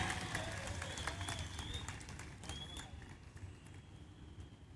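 A rally crowd applauds to welcome Raj Thackeray at an election event in Navi Mumbai, producing dense, sustained clapping with cheering and voices mixed in throughout.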